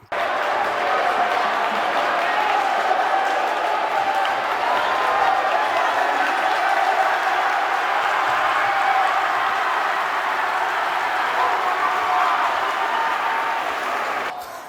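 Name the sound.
basketball crowd cheering after a dunk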